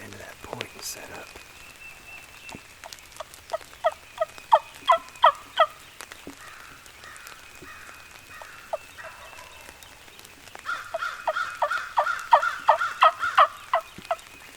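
Wild turkey gobblers sound off in the woods during spring turkey season, with repeated rattling gobbles in bursts that come and go, moderately close and loud, over a quiet outdoor background.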